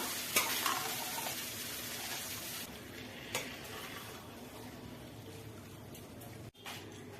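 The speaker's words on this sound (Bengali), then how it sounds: "এবার মোস্ট ইম্পর্টেন্ট পার্ট, চিকেনগুলো দিয়ে দেওয়া।" Marinated chicken, coated in turmeric, chili powder, salt and yogurt, goes into a pan of cooking masala for a hostel-style chicken curry, sizzling steadily while being stirred, with a couple of sharp scrapes and a brief cut near the end.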